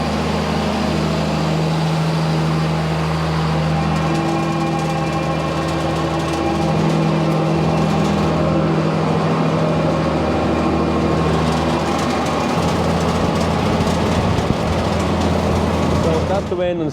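A farm tractor engine runs steadily for the whole stretch, a loud continuous drone with a deep idling rumble and vibration, close by and unbroken.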